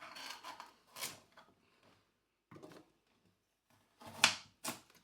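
A kitchen knife chopping the end off a potato on a cutting board, a few sharp separate cuts and knocks with quiet gaps between them, close and fairly soft.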